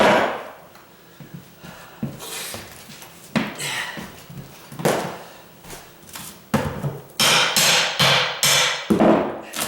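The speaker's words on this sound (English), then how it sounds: "Instead of prying straight up, you can tilt it sideways." Oak floor planking being pried up, heard as a series of sharp wooden knocks, cracks and thuds at uneven intervals, loud and close, growing busier toward the end with no talking.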